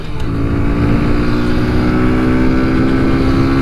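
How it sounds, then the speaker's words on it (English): A 2020 Kawasaki 125 motorcycle accelerates at full throttle, its small engine droning loud and close with a steady, rising buzz and no talking. "We're gonna test this little acceleration here real quick. That's all the way. Full throttle right there."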